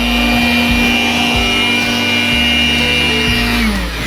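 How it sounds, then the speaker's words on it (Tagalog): An air blower runs continuously while cleaning dust from inside a desktop PC unit, giving a loud, steady close-up whine with a low droning hum that tails off at the end. "huwag nyo talaga lakasan ang pag-blower para hindi masira yung mga pyesa"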